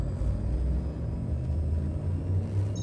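Frameshift drive charging aboard a spaceship in Elite Dangerous: a steady, loud low rumble that holds evenly throughout, with a faint high whine on top and no voices.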